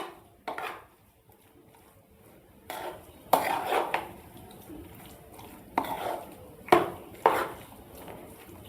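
A spoon mixes curd into cooked rice in a metal bowl, giving a few distinct clinks and scrapes at irregular intervals against quiet, close and clear.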